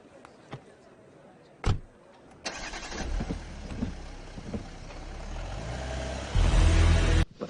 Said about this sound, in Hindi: मेरी गाड़ी आ गई।